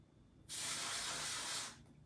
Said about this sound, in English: And I will literally spray.